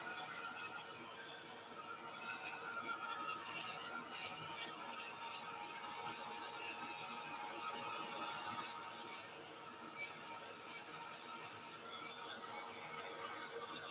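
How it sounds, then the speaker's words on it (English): A heat tool dries paint on an art journal page with a steady, continuous blowing whir. The sound is faint and unbroken, with no voice over it. "Let me know if you can hear me while I'm doing the heat tool."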